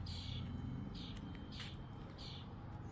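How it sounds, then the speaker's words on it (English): Grackles call from a nest in a birdhouse, faint high chirps repeating four times at roughly even intervals over a low steady background hum. "Do you hear the birds singing?"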